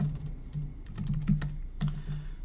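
Typing on a computer keyboard: quick, close clicking keystrokes in short uneven bursts over a low steady background hum, with no speech.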